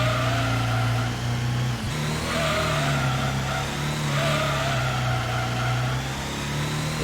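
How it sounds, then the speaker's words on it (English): A C2 Corvette in Gran Turismo Arcade on Grand Valley East, PlayStation racing game, revs well past its red line: a loud, sustained high-pitched engine drone with a brief dip and shift partway through. "Yes, I am revving this thing well past its red line."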